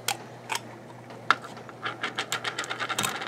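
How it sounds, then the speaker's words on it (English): A home printer running, a steady chattering mechanical rhythm of close, moderately loud clicks and whirring pulses that speed up into a regular ratcheting pattern. "So the printer is still hacking away."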